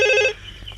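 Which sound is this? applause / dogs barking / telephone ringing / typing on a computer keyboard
telephone ringing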